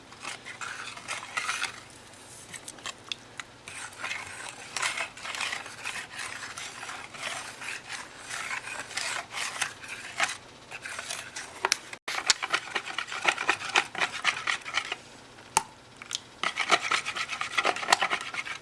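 Eggs whisked together in a bowl at home before milk is added, a steady scraping, rattling rhythm of the whisk against the bowl, close and fairly quiet, continuing without talk.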